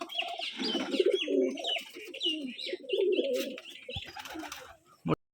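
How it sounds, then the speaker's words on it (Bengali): Rajshahi Giribaz pigeon squabs cooing together in a loft, a steady layered murmur of soft rolling coos with a few higher chirps, close and continuous, ending in a brief sharp knock. "দেখুন সবগুলো কবুতর একসাথে খালি শুধু বাচ্চা আর বাচ্চা"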